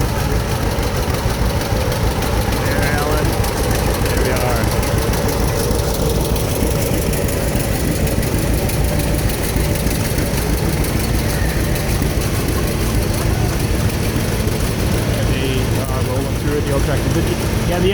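An old John Deere tractor idles close by at a small-town summer carnival parade, a steady low rumbling knock that runs continuously while people talk over it.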